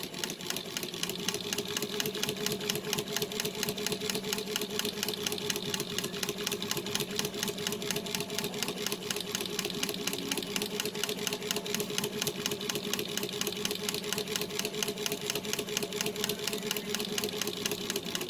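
A chain stitch embroidery machine stitching fabric runs steadily and close, giving a fast, even mechanical chatter with a constant motor hum and no pauses, and no voices.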